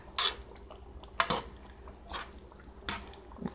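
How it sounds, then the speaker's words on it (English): Thick Japanese curry poured over shirataki noodles in a bowl, giving a few soft wet splats and drips in separate bursts, close and quiet with no talk. "I'm going to pour this yummy curry over the top of it"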